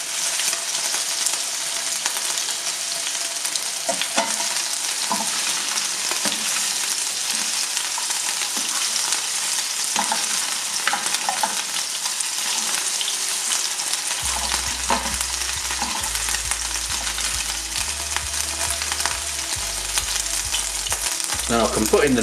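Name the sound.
lamb chunks browning in a pan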